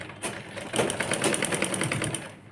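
A sewing machine runs steadily, stitching a folded seam on a naira-cut kurti, its rapid needle rhythm close and continuous for about two seconds with no voices.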